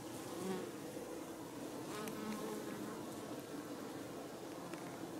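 Honeybees fan hard inside a hive during a heat wave. The close buzzing drone holds steady and dense throughout, with no talk.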